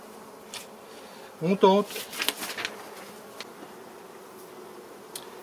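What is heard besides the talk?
honeybees buzzing around an opened beehive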